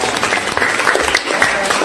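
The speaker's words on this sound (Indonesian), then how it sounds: "beri tepuk tangan." Classroom students applaud a group of classmates, a brief burst of dense clapping from many hands, fairly close and steady throughout, with some voices mixed in.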